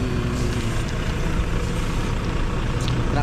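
A Volvo trailer truck with an automatic transmission gives off a steady, loud, low engine drone from close by, with a faint hiss above it.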